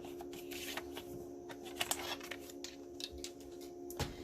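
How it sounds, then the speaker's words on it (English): A paper trimmer slices card stock to width for a handmade stamped card, heard as quiet close sliding and crisp cutting swishes with a few light clicks over a steady low hum. "Now I'll line it up at 2 3/4 and trim it down to that width."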